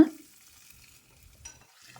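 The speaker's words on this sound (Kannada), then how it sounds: "ಈ ಗೊಜ್ಜಿಗೆ ಹಾಕಿ ಚೆನ್ನಾಗಿ ಮಿಕ್ಸ್ ಮಾಡ್ಕೊಳ್ಳೋಣ" Faint, soft scraping as tempering is stirred into a fenugreek relish in a pot, a few low irregular strokes after a brief initial clatter, otherwise quiet.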